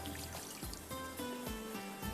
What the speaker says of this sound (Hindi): इसके बाद इसमें 2 से 3 टेबल स्पून आपने पानी ले लेना है